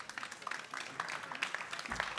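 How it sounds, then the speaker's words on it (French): Sparse applause from a small audience at a conference on water preservation, scattered individual claps, fairly quiet and uneven, with a low thump near the end. "Et pourquoi vous ne l'applaudissez pas?"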